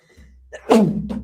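A single sharp sneeze bursts out close by, followed by a brief trailing breathy exhale, over a low steady hum.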